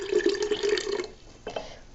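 Yeast starter is poured from a glass coffee mug into a pear juice mixture for homemade pear wine, a steady close liquid splash for about a second, then a brief trickle and drip.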